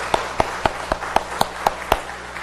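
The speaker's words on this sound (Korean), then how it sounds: "건강하게 만났으니 박수로 우리 환영합시다" Clapping in a steady, even rhythm, about eight sharp claps in quick succession, with no voices over it, from a congregation at a Korean Sunday church service.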